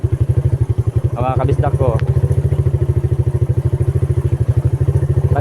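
Motorcycle engine pulsing steadily and loudly over a rough dirt road, its rhythmic thump continuous throughout, with someone speaking briefly over it partway through.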